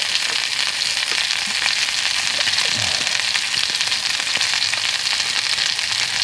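Hash frying in a pan over a campfire in the woods, a steady loud sizzle and crackle throughout, with faint occasional pops and no talking.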